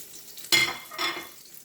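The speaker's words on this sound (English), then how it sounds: "I'm going to put this patty in here and start cooking it as well." A crab cake patty lands in a hot pan and sizzles in two sharp bursts that quickly fade to a soft crackle.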